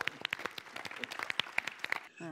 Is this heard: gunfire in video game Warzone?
no